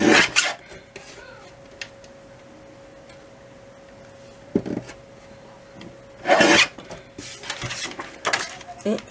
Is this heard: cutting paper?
yes